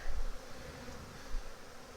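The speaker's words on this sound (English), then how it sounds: "Lots of bees." Honeybees swarm around an open hive during a colony inspection, a dense, continuous close buzz with no voices and a couple of brief low thumps.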